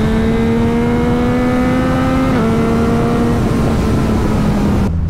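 A 2018 Yamaha MT-09 motorcycle engine revving on the throttle, a steady, droning note that holds close and loud, with a slight dip in pitch midway before cutting off near the end.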